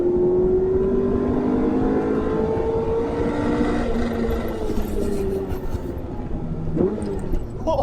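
A Ferrari F355 engine drones steadily while driving, its rising and falling pitch sweeping smoothly as it pulls and shifts, loud and close from inside the cabin.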